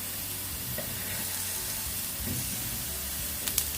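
Sweet potatoes cooking gently in a pan, a soft steady sizzle with faint stirring scrapes and a couple of small clicks near the end.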